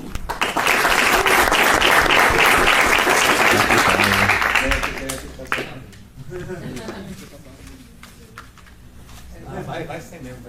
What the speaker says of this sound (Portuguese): Vamos receber com uma salva de palmas, por favor, Bruno Bittencourt.